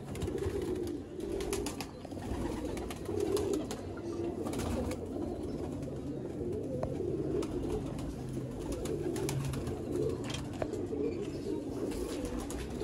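Red-eyed A-class fancy pigeons from the Sialkot border area coo in low, rolling, repeated phrases that overlap one another, steady and close throughout with no talking.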